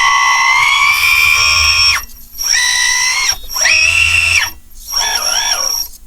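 Electric motor of a Kabolite K963-100 hydraulic toy construction vehicle, a loud high-pitched whine that runs steadily, then cuts out and restarts in shorter bursts that rise and fall in pitch.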